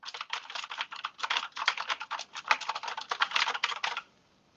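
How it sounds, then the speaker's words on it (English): Rapid clacking keystrokes on a mechanical keyboard, close and steady for about four seconds, then stopping abruptly into quiet. "This is my mechanical keyboard."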